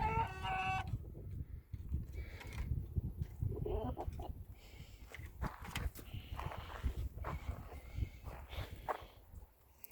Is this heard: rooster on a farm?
yes